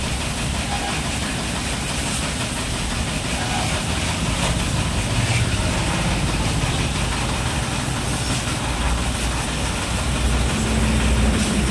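Steady hiss and rumble of a motorcycle being rinsed with water at a roadside washing centre, continuous and even for about twelve seconds with a low mechanical drone underneath and no clear talk.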